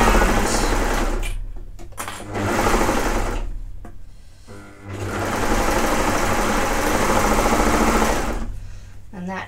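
A sewing machine stitches a sleeve onto a tee in quick whirring bursts, stopping and starting several times, loud and close, with a voice talking at moments.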